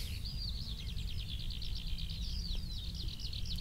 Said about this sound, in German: Und du hörst die Vögelchen zwitschern.